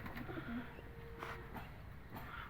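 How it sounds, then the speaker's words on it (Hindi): An Indian Ambarsariya pigeon coos softly and low, repeating a few times over a dull background hum. "बेसिक ये इंडियन कबूतर हैं।"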